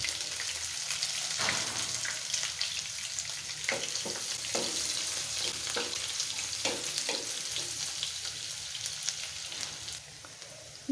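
Chopped onion and garlic fry in hot oil for a dried taki fish and bottle-gourd-leaf curry. A steady, close, dense sizzle runs throughout, with occasional soft knocks and crackles from stirring and no speech.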